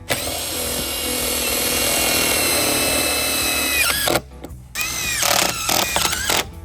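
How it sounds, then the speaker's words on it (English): A power drill drives screws into the hinges of a white vinyl fence gate. It runs in a steady whir for several seconds, then comes back in shorter bursts that start and stop, close up, with no talking. "The next step is to put the rest of the screws in the hinges."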